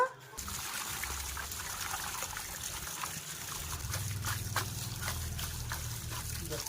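Tap water runs and trickles steadily over cut chicken pieces being rinsed clean in a kitchen, a continuous close splashing stream with no talk.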